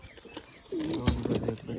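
A pigeon gives a low, rolling coo close by, repeated a couple of times, with some faint background clatter.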